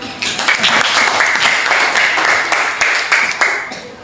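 A classroom of students claps during a micro-teaching lesson, a steady, dense patter of many hands lasting throughout, loud and close with faint voices mixed in.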